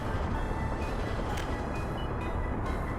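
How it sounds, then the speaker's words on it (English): A tram in the Soviet city-building game Workers & Resources: Soviet Republic rumbles steadily along its track, loud and broadband, with faint high chimes and clicks scattered over the continuous roar. "That looks like it's a tram"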